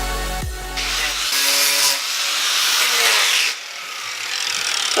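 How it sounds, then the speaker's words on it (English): Metal sign corners ground on a linisher belt sander, giving a loud broadband abrasive hiss in several bursts after the machine motor spins up, close by with no talking. "I'm going to linish these corners off."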